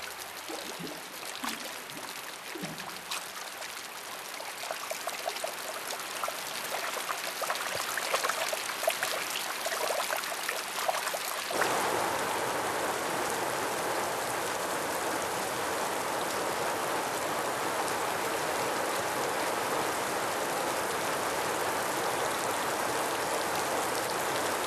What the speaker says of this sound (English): He orders a great rainy season, a downpour without precedent.